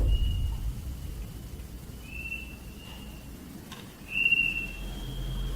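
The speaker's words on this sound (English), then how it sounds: "amongst the whistling in the wilderness" Thin, high whistled tones drift in short sustained notes over a quiet outdoor hush, one brief wavering whistle standing out louder near the end.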